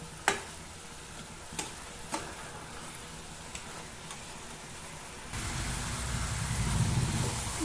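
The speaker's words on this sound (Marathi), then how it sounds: "अशाच पद्धतीने छान परतून घ्यायचं आहे इथे मात्र गॅस थोडा आपल्याला मोठा करून घ्यायचा आहे" Beetroot and carrot sautéed in a pan over a raised gas flame for laddu, with a few sharp spatula scrapes and clicks over a low sizzle that swells louder and denser near the end.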